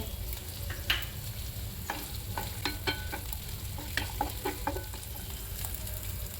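Green chilies and garlic sauté in oil with cumin and a pinch of asafoetida for Maharashtrian thecha, a soft steady sizzle under repeated light stirring clicks and scrapes, without speech.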